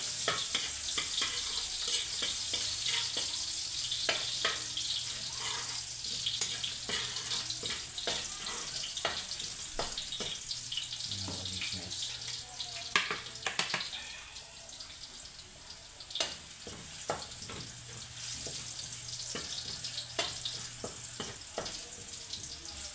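Garlic sizzles and fries steadily in a pan toward golden brown, a continuous crackling hiss with occasional stirring clinks and water sounds, close and moderately loud.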